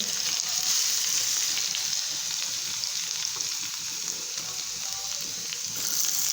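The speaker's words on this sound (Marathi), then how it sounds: "स्टार्टिंगला आपण मोहरी टाकून देऊ जिरे लसूण" Mustard seeds, cumin and garlic sizzle steadily in hot oil in a pan, a loud, continuous frying hiss with faint crackles, close and alone without talk.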